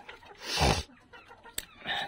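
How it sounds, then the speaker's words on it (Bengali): A few short clucks from Fayoumi chickens, hens kept with a rooster in a small farm shed with worn litter, sounding fairly close, with no talking. "4টা ফার্মি, 3টা মুরগি, একটা মোরগ।"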